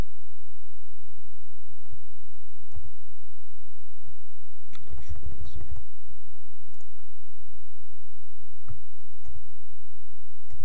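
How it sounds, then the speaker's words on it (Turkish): A computer keyboard's F7 key is pressed while stepping through code in the Code::Blocks debugger on Ubuntu, giving a few scattered soft clicks with a denser cluster midway through, close and otherwise quiet. "Ya da klavyeden F7 tuşuna tıklayarak işletebilirsiniz."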